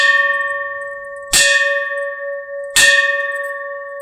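An antique heavy bronze pot, about ten liters and seven inches wide, struck twice, each blow ringing out like a temple bell with a long, slowly fading sustained tone, loud and close with no voices.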